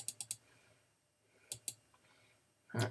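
Sharp computer mouse clicks come in quick clusters while someone plays the game Beholder: three rapid clicks, a pause, a few more, then a louder knock at the end, all close and fairly quiet.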